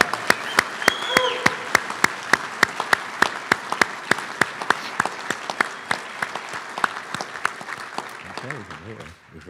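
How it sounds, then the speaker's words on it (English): Applause at an awards dinner, loud, regular claps ringing out over a murmuring crowd, continuing steadily before tapering off at the end. "please join me in another round of applause for the Marriott staff and Miss Leanne Mitchell"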